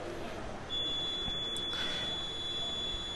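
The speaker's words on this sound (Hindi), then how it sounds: "लास्ट बीप की आवाज होती है, उसके बाद फिर मतदान की प्रक्रिया समाप्त हो जाती है।" An M3 electronic voting machine at a polling booth gives a steady high electronic beep after a vote is cast, a sustained tone over faint room hiss with a few soft clicks.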